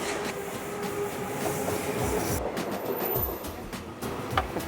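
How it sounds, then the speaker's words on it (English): Trains bound for Seoul Station or Yongsan Station roll past at close range, giving a steady rumble with rhythmic wheel clatter and a faint squeal over the track. "those are like trains that go to Seoul Station or Yongsan Station"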